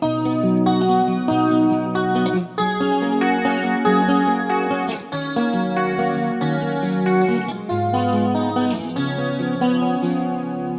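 An electric guitar with a shimmering chorus effect picks through a repeating chord pattern, notes ringing into each other at a steady, moderate pace.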